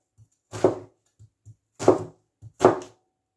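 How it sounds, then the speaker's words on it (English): Onions being chopped into thin slivers with a knife on a cutting board: three distinct, close chopping strokes spaced about a second apart, with small soft taps between them and no talking. "I'll just keep chopping away."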